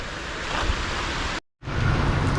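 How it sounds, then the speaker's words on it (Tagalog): Heavy rain pouring outdoors during a bike ride, a dense, loud, broadband hiss that is briefly cut to silence midway before resuming just as strong, with no talking. "Malakas na naman yung ulan."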